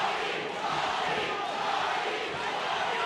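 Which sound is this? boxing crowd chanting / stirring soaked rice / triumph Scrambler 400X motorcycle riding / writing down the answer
boxing crowd chanting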